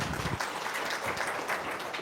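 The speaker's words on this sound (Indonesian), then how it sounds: "Tepuk tangan dong." A seated audience at a talk event breaks into sustained applause, a dense wash of many hands clapping at once, moderately loud and without speech over it.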